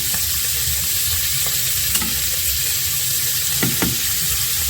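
Onions frying in a pan after fish has been fried, a loud, steady, close sizzle with a few brief scraping stirs breaking through.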